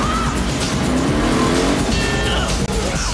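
A car speeds along with screeching tire squeal and engine roar in a movie preview, loud and continuous for a few seconds, with music and effects layered in.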